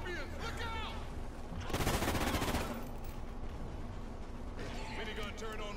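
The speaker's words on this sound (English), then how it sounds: "Minigun turret online." Rapid, loud automatic fire from a deployed minigun turret in a Call of Duty Ghosts Extinction match on the Point of Contact map, a dense roughly one-second burst standing out above the game's ongoing combat noise and chatter.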